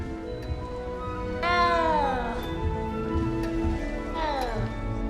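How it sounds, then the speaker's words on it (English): A frightened cat meows in Hogwarts Legacy, two rising-and-falling cries standing out over a steady ambient game bed, with a voice speaking around them. "You don't need to be frightened, little cat."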